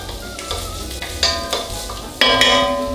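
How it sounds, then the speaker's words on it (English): Chopped onion is tossed into a hot pot and stirred. Sizzling hisses rise in several bursts as it is scraped and moved around, close and fairly loud, and no one speaks. "So I'm going to get this onion in a nice hot pot."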